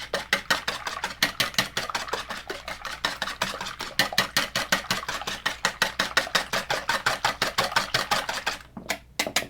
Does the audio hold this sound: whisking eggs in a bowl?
yes